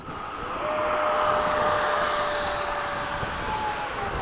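A Hobby King Avios 90mm MiG-17 RC jet spools up for takeoff with a steady, loud ducted-fan whine whose pitch climbs early and then holds as a continuous roar over the whole stretch.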